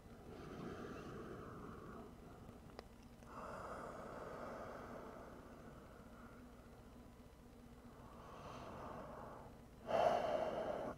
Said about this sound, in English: Breathe in deep.